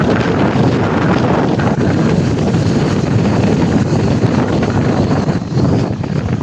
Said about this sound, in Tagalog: Siyempre yung karagatan, grabe yung lakas ng hangin guys.